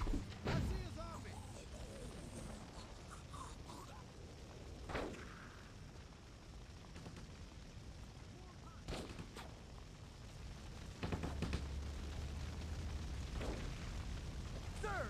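Gunfire from the zombie video game Stubbs the Zombie, with several sharp, booming shots standing out at intervals over a dense, rumbling game soundscape and voices.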